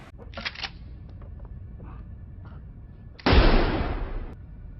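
Gunfire in the action film The Raid 2, as Uco shoots Bejo: a few sharp cracks early on, then one loud, broad blast that rings out for about a second.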